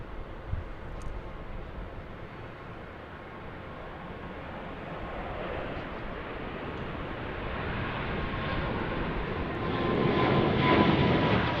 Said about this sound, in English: we get a departure looking like over on the 31 or 13 right taking off here